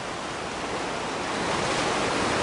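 Tsunami surge at Kona, Hawaii, pouring over a sea wall onto a main road: a continuous, loud, close roar of rushing water that builds slightly toward the end, with no talk.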